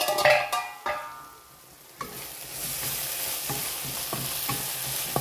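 Tomatoes frying in a pan, with a few clattering stirs at first, then a steady close sizzle with light scraping strokes, and no talking.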